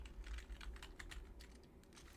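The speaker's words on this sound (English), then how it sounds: "Okay, typing." Quick, irregular clicks of a computer keyboard being typed on rattle along continuously. The sound is faint and close, sits over a low background hum, and no one speaks.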